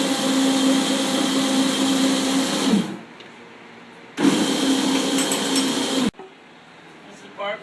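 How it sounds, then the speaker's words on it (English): Power tool cutting off U-bolts on a Suzuki Samurai during a lift kit install, two loud sustained whining bursts separated by a brief pause, with voices talking softly in between. "Okay, we're just cutting the U-bolts off"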